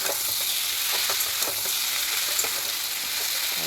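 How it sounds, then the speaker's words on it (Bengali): Tomatoes stir-fried in a pan for a drumstick and potato curry, giving a steady close sizzle with scattered spatter pops and soft stirring scrapes throughout. "টমেটোগুলো দিয়ে আরেকটু বেশ কিছুক্ষণ কষিয়ে নিয়ে"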